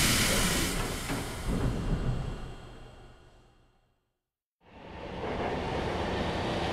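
Steady rumbling rail noise of a train ride in a Digimon Frontier audio drama, loud and continuous, fading to a brief silence before resuming at full level; no voices.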